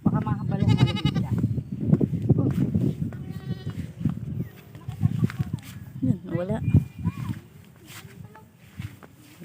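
Goats bleat repeatedly, some calls close and loud, others fainter, with people talking and footsteps throughout.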